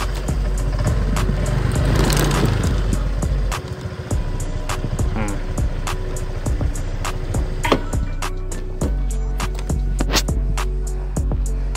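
A 2015 Honda Air Blade 125fi scooter with a 125cc engine runs with a low, steady hum and small revving shifts, close up, with intermittent clicks and knocks over it.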